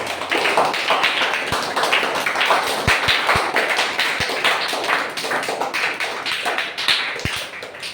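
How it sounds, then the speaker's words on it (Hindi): An audience claps for a student who earned top marks in a competitive exam. Dense, steady applause with sharp individual claps carries on throughout with no talking. "एक बार जोरदार तालियां के लिए बजाइए।"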